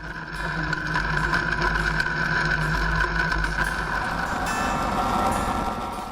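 A tractor engine drones steadily and close while dragging a loaded box blade across a gravel driveway, with a constant low rumble and faint grinding scrape lasting throughout.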